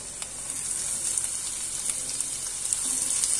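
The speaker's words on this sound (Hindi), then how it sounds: "अब मैं इसमें ऐड कर दूंगी बारीक कटा हुआ प्याज" Finely chopped onion dropped into hot oil with golden garlic and red chili, frying with a steady, bright sizzle and occasional small crackles, close and even throughout.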